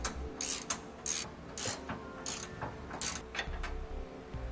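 A ratchet clicks in quick bursts while backing out 21mm frame bolts from a cross member on a 2016 Thor Challenger motorhome, several rapid ratcheting strokes separated by short pauses, close and clear with no talk.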